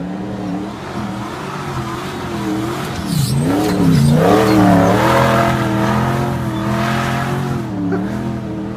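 A Nissan GU Patrol with a swapped LS1 V8 engine drives up a hill, a loud, deep engine roar that rises and falls as it revs and climbs under load, with no talking over it.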